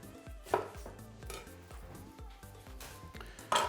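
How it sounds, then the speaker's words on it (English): A knife chops onions on a cutting board in a steady run of close, crisp strikes, with faint clinks of dishes and utensils behind it. "So again, when I'm chopping onions"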